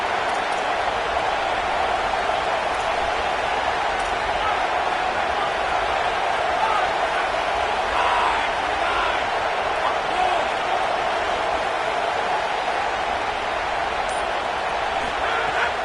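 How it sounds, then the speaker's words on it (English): A stadium crowd in a college football video game, Auburn on the schedule, roars continuously as a dense, steady wall of cheering noise that lasts throughout at an even, loud level. "this crowd trying to help keep them there"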